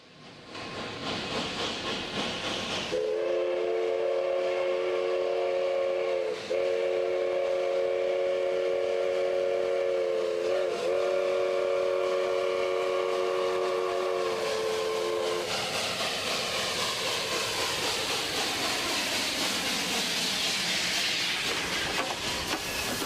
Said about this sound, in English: mornings are a special time at the Roundhouse as the 1920-era steam locomotives are readied for the day's runs